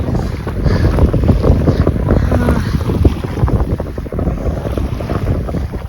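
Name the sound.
wind blowing at Pangong Tso lake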